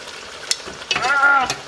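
Brief soft sizzling and stirring of pork spare ribs frying in a pot on a stovetop, with a faint scrape near the end.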